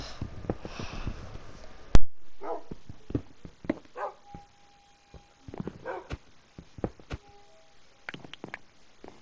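Dogs in Minecraft bark in short sharp bursts, several scattered yaps and whimpers spaced across the stretch with game clicks and a faint tone between them, fairly close and clear.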